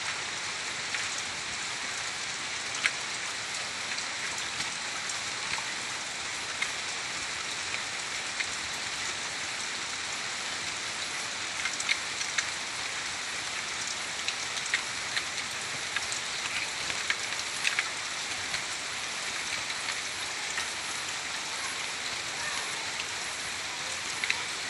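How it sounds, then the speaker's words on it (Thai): Rain falling steadily outdoors, a dense even hiss with scattered drop taps throughout, loud and close, with no voices. "ฝนลงฝนตกน้ำนองมา"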